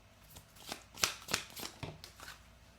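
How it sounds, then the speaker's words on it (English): Tarot cards from the Divinely Me Volume 2 deck being shuffled, several quick riffling bursts of crisp card flutter, close and fairly quiet, with no talking. "Let's pull 3 cards."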